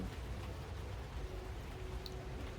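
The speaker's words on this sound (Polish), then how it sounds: "jest chłodniej, we Wrocławiu, pada deszcz" Steady rain falls outdoors in Wrocław, a dense, even hiss of drops with no pauses and no voices.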